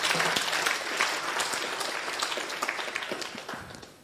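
Audience applause fills a hall at an event honoring guests, a dense, steady wash of many hands clapping that stays loud throughout and tapers slightly toward the end.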